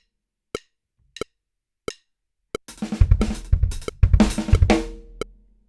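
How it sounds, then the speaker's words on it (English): A drum kit plays a fill built on a double stroke roll split between the hands and the kick drum. Four evenly spaced single clicks come first, then a loud, rapid burst of toms and kick, close and alone. "playing fills with a double stroke roll that is distributed between the hands and feet"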